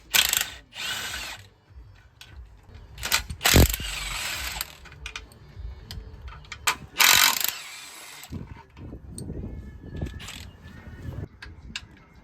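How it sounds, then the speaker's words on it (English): Ratchet wrench clicking as bolts are loosened on a boat motor, in repeated bursts of rapid ratcheting with pauses between, close and fairly loud, with occasional metallic clanks. "when I loosen all these bolts, nothing's gonna fall, right?"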